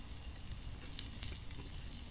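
Steak sizzles steadily in a pan over a campfire outdoors, a dense, close hiss with a couple of small pops and no talking.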